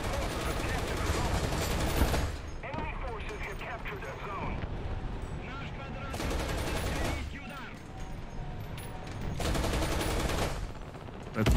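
Gunfire rattles through a War Thunder battle from the April Fools 2023 exoskeleton-versus-tanks event. Three loud bursts of rapid shots are separated by stretches of rumbling combat noise, and someone talks over parts of it.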